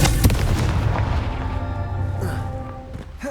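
A Confringo fire spell blasts in the video game Hogwarts Legacy, a loud booming burst over a rumbling, dense game soundscape that stays heavy through the whole stretch before easing slightly at the end.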